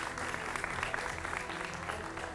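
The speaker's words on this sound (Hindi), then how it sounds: "विवेक श्रीवास्तव जी का भी जोरदार तालियों से स्वागत कीजिए" Studio audience on a Hindi TV political debate show claps loudly and steadily to welcome a guest panelist, a dense continuous round of applause with no speech over it.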